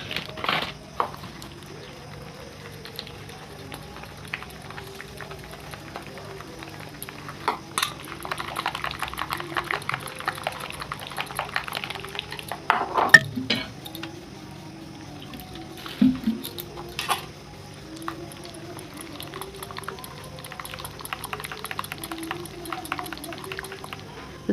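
Gram flour batter is whisked with a little water in a bowl, light rapid tapping and stirring clatter with occasional louder knocks, fairly quiet and continuous.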